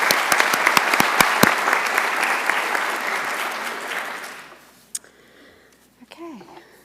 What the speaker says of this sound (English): let's just give her a round of applause as well